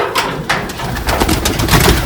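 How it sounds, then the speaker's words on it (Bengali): Pet pigeons cooing close by in a loft during feeding, a run of soft throaty coos with a few wing or body shuffles, loud and without talk. "এগুলো কবুতর দেখেন একটা কবুতর আমার হাতের উপরে চলে এসেছে"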